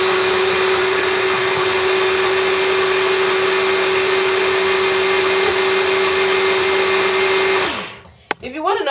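Steady high-pitched whir of a Cuisinart Smart Stick immersion blender mixing oils, running continuously for several seconds, then winding down and stopping with a clunk.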